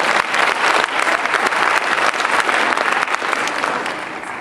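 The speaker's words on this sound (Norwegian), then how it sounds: "En stor applaus til vår besøkende fra Sverige." Crowd at the men's athletic fitness open in Sandefjord, 2012, applauds a competitor visiting from Sweden: loud, continuous clapping from a large audience that tapers off slightly in the last second.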